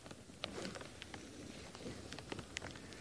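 Light rain patters softly and steadily outdoors on a wildlife safari, with scattered faint drips and taps over a quiet, low background and no voices.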